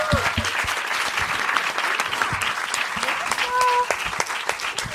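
Studio audience on a French talk show applauds arriving guests, a dense steady wash of clapping that holds at full strength for the whole stretch, with brief voices and a faint tone poking through.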